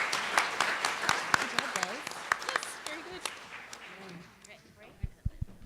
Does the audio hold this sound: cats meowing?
no